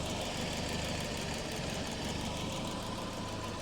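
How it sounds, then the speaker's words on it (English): A car engine freshly rebuilt with forged internals idles quietly and steadily at operating temperature, a faint even hum with no talk over it. "That is a quiet engine."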